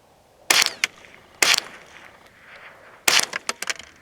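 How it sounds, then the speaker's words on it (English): Winchester .22 LR rounds are fired at cinderblock bricks outdoors: three sharp, loud cracks spaced about a second apart, followed by a tight cluster of quicker shots near the end, each with a short ringing tail. "We're shooting the bricks with Winchester."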